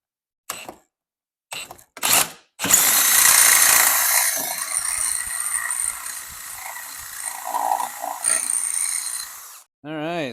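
A power drill bores holes in a C6 Corvette for fitting a racing harness: a few brief clicks, then one loud, steady whirring run of about seven seconds, followed by someone speaking.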